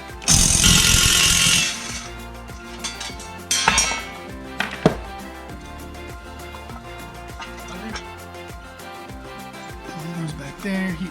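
A power tool whirs in a loud buzzing burst for about two seconds while removing the 8 mm bolts from the heat shield of a Predator 212 engine, followed by a few short clinks and taps of metal parts.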